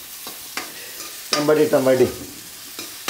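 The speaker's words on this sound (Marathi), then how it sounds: "मंडळी चरचरीत असं का नाही, कांदा परतून झालेला आहे" Onions fry in a pan over a wood-fired stove, a low steady sizzle broken by a few clacks of stirring, while someone speaks briefly in the middle.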